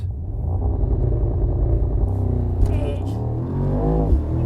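A Mercedes-AMG SL63 4MATIC+ with a twin-turbo engine launches from a race start, its exhaust roaring loud and close as the revs climb steadily, then dip briefly at a gear change before rising again.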